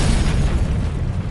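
An ancient Chinese gunpowder bomb packed with iron shrapnel going off in a loud, sustained, rumbling blast that fills the whole moment without a distinct onset, with no voices.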